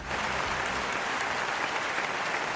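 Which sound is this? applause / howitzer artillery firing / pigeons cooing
applause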